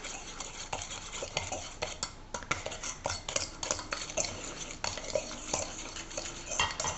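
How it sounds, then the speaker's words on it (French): A spoon stirs a homemade sugar scrub of sugar, olive oil and shea butter in a bowl, with continuous close gritty scraping and frequent light clinks against the dish. "Je mélange."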